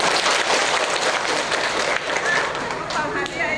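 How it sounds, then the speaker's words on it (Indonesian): An audience at a community health cadre competition claps steadily, a dense, moderately loud applause with a few children's voices and some talk mixed in. "Tepuk tangan dulu"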